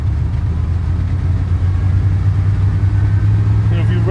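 Car engine running without a catalytic converter, idling with a deep steady low rumble that swells slightly as it is revved, loud and close throughout.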